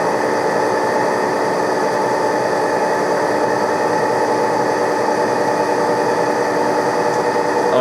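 A machine runs a cut at 180 RPM in a shop, giving a loud, steady mechanical hum with a constant tone and fine vibration throughout, with no voices.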